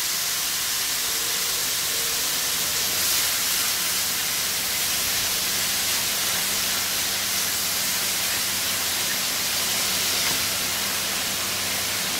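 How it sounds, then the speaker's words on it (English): A kitchen exhaust fan runs steadily while hamburger meat fries on a stovetop set to medium, giving a constant broadband whoosh with a faint sizzling hiss, loud and unbroken throughout with no talking. "I'm gonna turn this fan on, so y'all might not be able to hear me"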